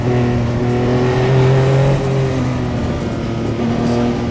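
Porsche 962 Le Mans-winning race car engine accelerating hard, a loud continuous near roar with steady harmonic drone rising slightly in pitch throughout, no voices.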